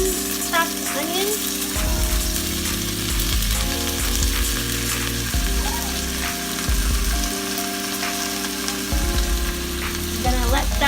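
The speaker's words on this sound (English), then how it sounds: "I'm gonna let that saute until it's softened." Chopped onion and garlic sauté in a soup pot for a creamy chicken tortellini soup, giving a steady soft sizzle that runs under background music, with occasional spoon clatter.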